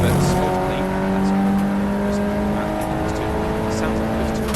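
A Toyota MR2 with flapping bodywork and a Renault Clio race at Silverstone International in a BRSCC ClubSport Trophy race, giving a continuous loud engine drone with shifting pitch and a voice underneath.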